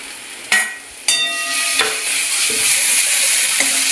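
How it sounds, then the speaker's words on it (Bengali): Ginger-garlic paste fries in a pan with golden onion and softened tomato, sizzling loudly and steadily up close, with sharp stirring knocks and scrapes and no talk. "এটা একটু হালকা ভেজে নেবো আদা রসুনটা"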